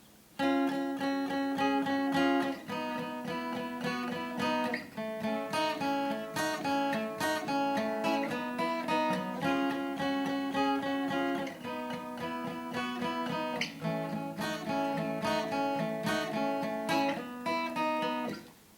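An electric guitar plays a flowing barre chord part, the chords shifting along the neck in a steady rhythm, clean, close and alone.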